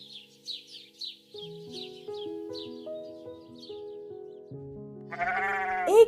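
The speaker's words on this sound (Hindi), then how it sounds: "एक बकरा वही पास से निकला" A goat gives a short, nasal bleat near the end, following a gentle melody with light bird chirps.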